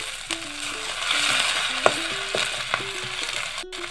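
Ginger-garlic paste frying in hot oil with panch phoron spices for a fish curry, a steady close sizzle with stirring scrapes and a few sharp clinks of the spoon against the pan.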